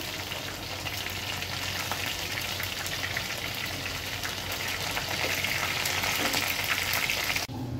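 Leafy greens fry in hot oil in a pan, giving a steady, close, dense sizzle that holds evenly throughout, with no voices over it.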